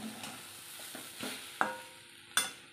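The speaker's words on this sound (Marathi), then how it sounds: "त्यावरून मी आता हे कच्चं तेल फिरवते आहे। कच्चं तेल फिरवल्याने भाजी खूप छान लागते आणि छान परतून घ्यायची आहे।" Taro leaves being stir-fried with raw oil drizzled over them in a pan give soft scraping stirs and light sizzling, with two sharper clatters near the end, close and fairly quiet.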